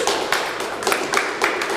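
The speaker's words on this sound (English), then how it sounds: "They're clapping for that?" An audience clapping together in a brisk, steady rhythm, each loud broadband clap landing roughly every third of a second, close and uninterrupted by voices.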